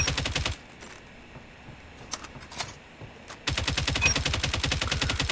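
Rapid automatic fire from an LK24 rifle shot from the hip in Call of Duty, two loud sustained bursts of evenly spaced shots separated by a quieter pause with a few scattered clicks.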